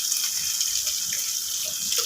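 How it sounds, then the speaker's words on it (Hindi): Water pours steadily into a cooking pot of chicken seekh kebab white gravy, a short, continuous splashing stream at moderate volume with no voices. "उसको भी मैं थोड़ा सा पानी डाल के"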